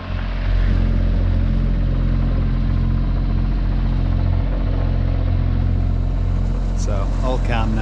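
A single-handed sailboat motors in calm sheltered water off Connemara between Inishbofin and Galway, its engine a loud steady low rumble filling the whole stretch, with a brief higher clatter near the end.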